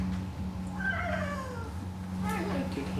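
A person imitates a cat's meows in a drawn-out, wavering, caterwauling voice, two meows close together, heard close over a low steady hum.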